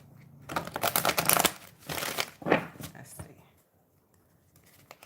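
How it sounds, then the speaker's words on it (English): Tarot cards shuffled by hand in a series of dense papery riffles and bursts, close and fairly loud, tapering to faint rustles near the end. "I'm going to shuffle these cards"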